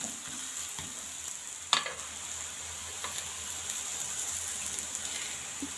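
Food roasting in a hot pan gives a steady close sizzle, with one sharp clack near the middle as it is flipped over and a few lighter taps after; nobody speaks.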